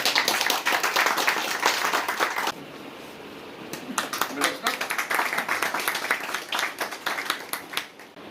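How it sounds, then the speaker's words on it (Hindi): Audience clapping at a Hindi-speaking public event honouring a newly appointed media in-charge, a dense burst of many hands that dips briefly, then swells again with sharp scattered claps near the end. "जोरदार ताली बजाइए।"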